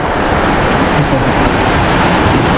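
A heavy tropical downpour that arrived all at once hammers down in a loud, steady, close roar of broadband noise that continues without a break.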